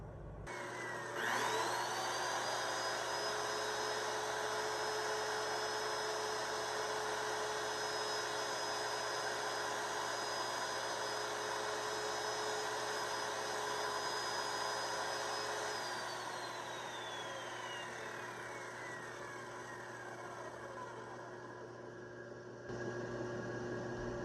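A power saw blade drops into the wood of a Les Paul 25/50 guitar during carving repairs. The motor spins up to a steady, high whine that holds for about fifteen seconds, then winds down and fades.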